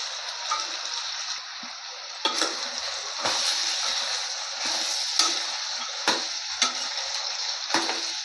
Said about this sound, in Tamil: காய் நல்லா வதக்கி விடுங்க.